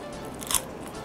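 A single crisp crunch of teeth biting into a microwaved frozen spring roll in Japan, close and brief, standing out midway through an otherwise quiet moment.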